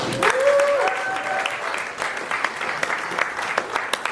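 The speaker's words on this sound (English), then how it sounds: "So please give a round of applause to yourselves." Enthusiastic applause from a comedy club audience at the Roxy Theater, steady clapping with some cheering that continues throughout.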